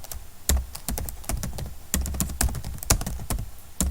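Keys clatter on a computer keyboard while entering text into an Excel spreadsheet: fast, close, irregular clicks, with a few heavier thumps that sound like the spacebar or Enter key, and no talking.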